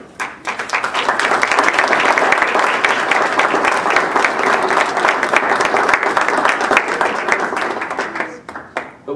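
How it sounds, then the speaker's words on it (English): Sustained applause from an audience at a West Valley City council meeting, honoring the recreation staff team for an award; dense, steady clapping fills the room for about nine seconds before tapering at the end. "We're just happy to applaud you along with our guests."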